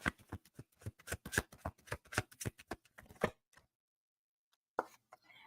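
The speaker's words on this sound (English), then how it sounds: "Last shuffle." A deck of tarot cards is shuffled by hand close up, a rapid run of crisp riffling taps and flicks lasting about three seconds, then quiet apart from a single soft card snap near the end.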